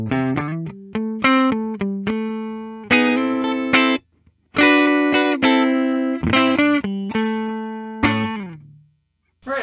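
A 2022 Fender Christone Ingram Telecaster electric guitar played through effects, plucked single notes and ringing chords with distortion and chorus, clear and close with brief pauses between phrases.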